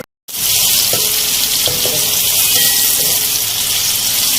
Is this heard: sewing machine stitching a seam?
no